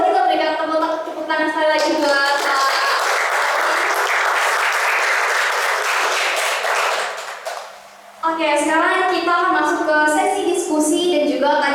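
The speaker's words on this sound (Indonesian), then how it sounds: "Boleh kita berikan tepuk tangan sekali lagi" A crowd at a lecture session applauds loudly with sustained clapping, framed by a speaker's amplified voice before and after, the applause briefly fading near the end.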